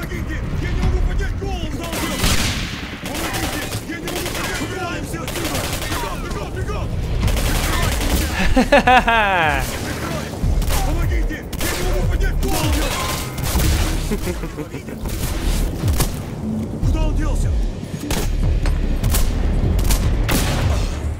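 Sustained automatic gunfire and grenade blasts rattle through a firefight against shielded soldiers in Singularity, loud and continuous under someone talking.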